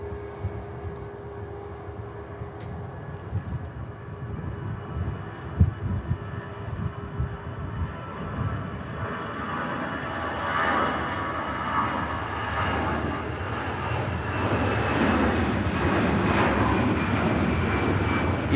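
An easyJet Airbus A320 with sharklet wingtips departs runway 05 left at Manchester Airport, its jet engines building from a distant rumble into a loud, sustained roar that keeps swelling toward the end.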